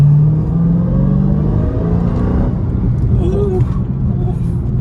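A supercharged car engine rumbles and revs loudly with a deep droning tone, close by, while a person lets out a short exclamation over it.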